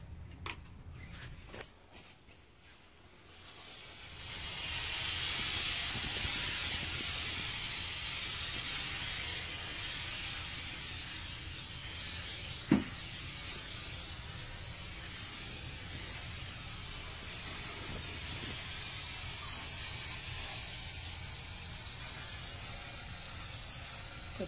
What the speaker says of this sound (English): Puts out some steam.